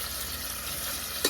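Oxtail sautéing in a pressure pot on its sauté setting, giving a steady, even sizzle with a brief sharper crackle near the end and no talking.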